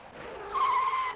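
Car tyres skid on a greasy road in a single loud squeal that rises abruptly and holds a sustained shrill tone for about half a second, heard alone.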